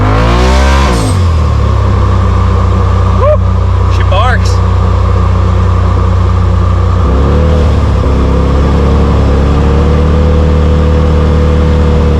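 A Polaris RZR Pro XP engine fitted with an RPM E-Valve electronic exhaust muffler idles with a loud, deep rumble, with a brief rev swell and a drop in pitch later on, while a voice talks over it.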